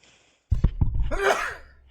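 A single sudden sneeze bursts out close to the microphone after a moment of near silence, trailing off into a breathy exhale.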